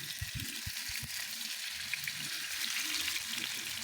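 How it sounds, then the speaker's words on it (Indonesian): Tofu pieces frying in hot oil hiss and sizzle steadily at close range, with a few soft knocks at the start as the pieces settle in the pan. "Kita goreng"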